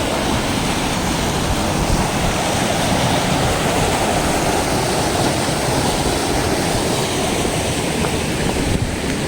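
The Kaypaaba River rushes steadily nearby, a loud, dense and unbroken wash of flowing water with no pauses.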